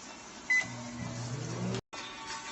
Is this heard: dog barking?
no